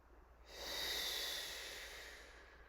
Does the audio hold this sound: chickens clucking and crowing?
no